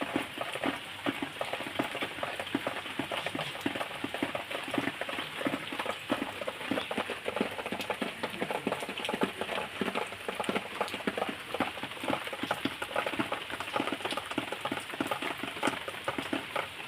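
Rain falls among tropical trees, including screw pine, coconut and areca palms, with a steady, dense patter and crackle, close and continuous, and no voices.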